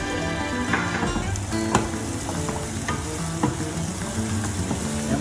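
Spring rolls fry in a home pan with a steady close sizzle. Scattered clicks and scrapes of turning run through it, and no one speaks.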